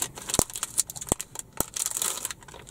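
A plastic wrapper on McVitie's Jonuts is torn and crinkled open up close, with quiet rustling, crackling and a few sharp snaps, and no voices.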